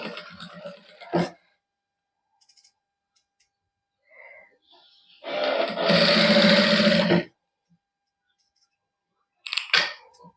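A sewing machine runs a short stitching burst along a folded cloth strip for a sleeve design, loud and close, set between near-silent pauses with a few brief clicks and handling noises.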